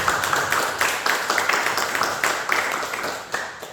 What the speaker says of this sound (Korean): 우리 박수로 축하하고